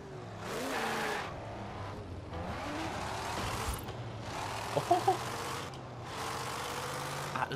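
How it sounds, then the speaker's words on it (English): A five-speed car engine in Forza Horizon 4 idling and revving at low speed, a rough mechanical drone with several bursts of rising noise and faint clicks throughout. "Low revs, it sounds so mechanical."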